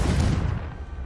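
A Confringo fire spell explodes in Hogwarts Legacy, a loud booming blast with a rumbling low-end body that decays over about a second, with no voices.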